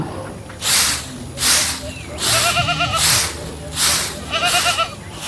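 A goat bleats repeatedly, five or so loud wavering cries spaced about a second apart, close by, with faint background noise between them.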